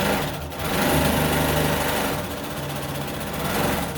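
A loud, fast sewing machine top stitching fabric napkins runs continuously with a steady buzzing hum and rapid mechanical rhythm, no talking over it.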